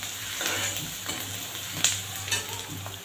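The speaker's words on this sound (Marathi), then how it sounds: "कांदा आपल्याला इथे चांगला गुलाबी रंगाचा होईपर्यंत भाजून घ्यायचा आहे." Onion and green chilli frying in a pan for veg paneer bhurji, a soft sizzle under a few scraping spoon strokes and light taps, close and fairly quiet with no talking.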